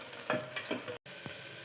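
Chopped onion goes into hot oil in a home kitchen pan, giving a soft sizzle with a few scraping stir strokes, then a brief dropout before a quieter stir.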